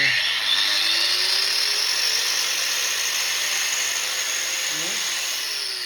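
A PRO-CRAFT PW-125/1550 brushless angle grinder switched on at its sixth speed of 11,000 rpm, running with a loud, steady, high-pitched whine held close and unbroken throughout.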